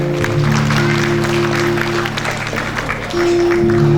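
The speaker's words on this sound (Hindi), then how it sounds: "एक बार जो भी कुछ याद आया उसके लिए जोरदार तालियां बजा दें" An audience claps at a stage event, a broad wash of applause running throughout, while steady sustained instrumental tones hum underneath.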